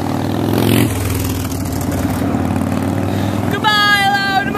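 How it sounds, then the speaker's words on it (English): Loud motorcycle passing by on a road, heard close with a rough clattering engine roar that swells and then fades within a few seconds, while a voice speaks over it. "Goodbye, loud motorcycle!"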